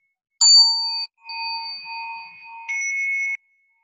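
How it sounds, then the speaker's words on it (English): A Soto Zen standing bell, struck during practice forms and not well tuned, rings out in three clear metallic strikes, each leaving a bright sustained tone that fades slightly before the next, close and alone in a quiet room. "First standing bell."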